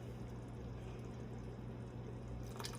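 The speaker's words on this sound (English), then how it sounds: "I'm gonna put just a little bit of this shrimp and crab boil in there" Shrimp and crab boil seasoning poured into seafood bouillon, giving a steady liquid wash with a low hum beneath and a brief splashy patter at the end, quiet and close.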